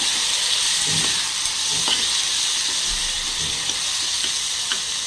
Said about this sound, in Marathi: परत एकदा हलवून घेते छान